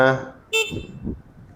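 A MAKA Motors Cavalry electric motorcycle horn gives one short, bright toot close by, set between stretches of a man's speech.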